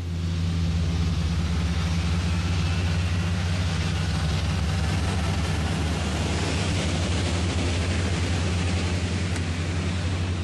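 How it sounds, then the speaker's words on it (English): Airbus A380 jet engines run during a ground test, producing a continuous, loud broadband roar over a steady low hum that holds unchanged throughout, with no voices. "The smoke is caused by a protective layer of oil burning off as the engines are run one by one."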